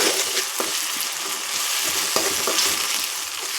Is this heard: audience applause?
no